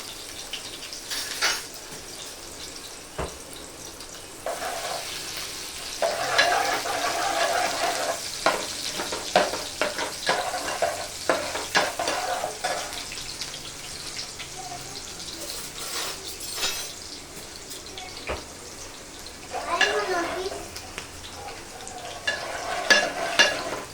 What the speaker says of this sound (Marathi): थोडं कांद्याला भाजूया।